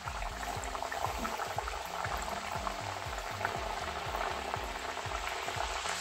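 A maize-flour puri fries in hot refined oil in a kadhai with a constant close sizzle and fine bubbling crackle, steady throughout and free of speech.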